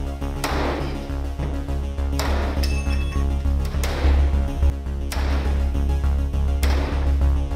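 A sledgehammer pounds a classroom door lockdown device in a police security test, landing five loud metallic strikes at roughly one-second intervals, each ringing out briefly over a low steady hum.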